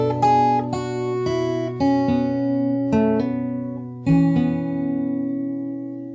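A fingerstyle acoustic guitar plays a phrase from a song, a string of clean plucked notes and dyads at a steady, unhurried pace, close and resonant, letting notes ring into one another without any voice.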